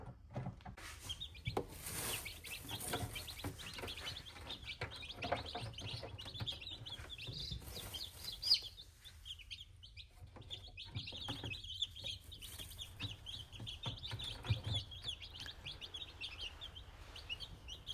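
Newly hatched baby chicks in a brooder, peeping with rapid high chirps that come in irregular bursts, fairly faint and close, over a low background hum.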